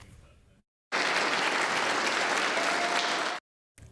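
Loud, dense applause fills a state Senate chamber for State Senator John Hoffman's return, a steady roar of clapping that cuts off abruptly after a few seconds.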